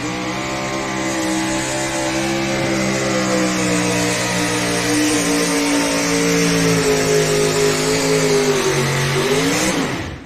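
The Copperhead mini rod pulling tractor roars under load at a truck and tractor pull, a loud, sustained engine howl with a steady harmonic drone that swells and sags in pitch before cutting off abruptly at the end.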